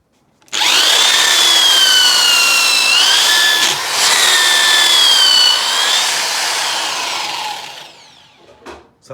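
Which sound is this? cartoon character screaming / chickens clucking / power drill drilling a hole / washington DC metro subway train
power drill drilling a hole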